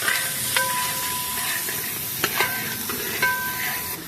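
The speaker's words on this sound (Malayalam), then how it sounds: "ഇതൊന്നും അങ്ങനെ ഇളക്കുക" Chopped onion, capsicum and green chilli stirred in a hot pan, a steady sizzle and hiss with a few scraping spatula strokes across the pan, close up.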